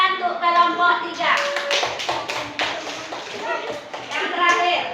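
Young children in a classroom clap together for their classmates, producing uneven bursts of small-handed claps that swell in the middle, while children's voices sound before and after.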